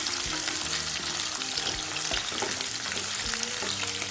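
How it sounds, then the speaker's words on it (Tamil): Small shallots sauté in oil for a Tamil onion kara kulambu, giving a close, continuous sizzle broken by the light scrape and clink of stirring. "சின்ன வெங்காயம் ரொம்ப வதங்க வேணாம், பாதி வதங்கினா போதும்."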